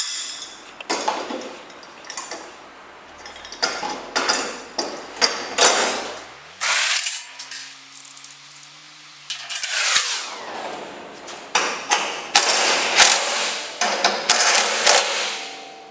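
Metallic clanks, taps and ringing pings as 1.5-inch bolts are fastened on a Beach King kayak dock rack, in uneven bursts with a longer scraping, grinding stretch midway, close and fairly loud, and no talking.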